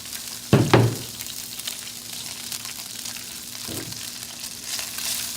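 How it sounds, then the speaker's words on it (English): Rice noodles hit hot olive oil in a pan with a sharp burst of sizzle, then a steady frying hiss continues, with another crackling flare-up later. "I will put my rice noodles into the pan."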